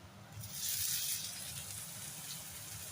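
Chopped garlic fries in a pan with a steady, close hiss and sizzle that swells briefly and then holds evenly throughout.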